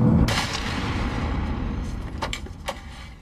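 A single loud gunshot from a 2001 action movie cracks at the start and booms into a long reverberant tail, followed by a couple of faint clicks or knocks.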